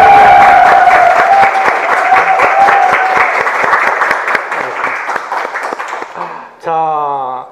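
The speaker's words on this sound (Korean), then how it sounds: "박수와 함성 부탁드리겠습니다." A studio audience of about 150 bursts into loud applause and cheering, with shouts layered over dense clapping that gradually thins out, followed by a short voiced sound at the very end.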